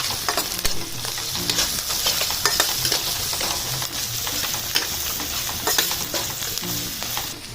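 Salted spice mixture for shingi fish curry sizzles in a pan while a spatula stirs it, producing a steady close frying hiss punctuated by repeated scraping and clinking strokes.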